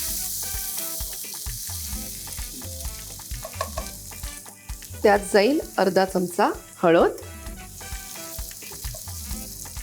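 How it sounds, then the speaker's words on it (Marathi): A tempering of green chillies, chopped onion and garlic crackles and sizzles in hot oil for a Konkani-style vegetable dish, with stirring throughout and someone talking over it. "आपली मस्त ही चरचरीत फोडणी झाली आहे."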